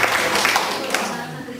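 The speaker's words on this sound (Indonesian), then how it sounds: "Tepuk tangan dulu kepada Outbound Sebelangit." A group gives a short burst of applause for an Outbound Sebelangit training team at Universitas Medan Area, with clapping mixed under a speaker's voice.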